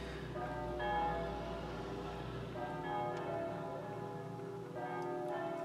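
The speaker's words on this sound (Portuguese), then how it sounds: "Agora o sino começou a tocar." A church bell rings nearby with sustained, ringing tones struck in a slow sequence, each strike blooming and fading, moderately faint with no talking.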